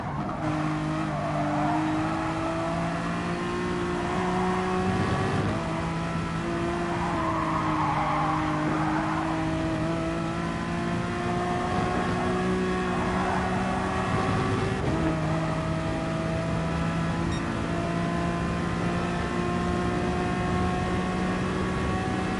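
Race car engines in GT Sport, a loud sustained high-revving drone with shifting pitch and brief gear-change dips, with occasional tire-skid noise through a continuous near stretch.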